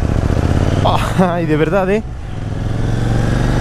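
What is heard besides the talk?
KTM Duke 790 motorcycle engine setting off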